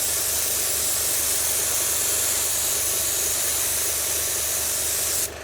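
An airbrush sprays paint in one continuous, close, loud hiss that holds steady for several seconds and then cuts off abruptly at the end.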